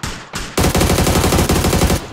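Rapid automatic gunfire in PUBG: a short shot, a pause, then a loud sustained burst of fast, evenly spaced shots that fills the rest of the moment at close range.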